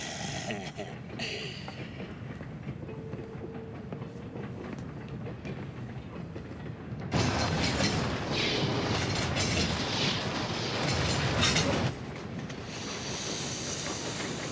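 A train running on rails, a steady rumbling roar with rattling wheel noise that swells louder midway for several seconds, then eases back, with background ambience throughout.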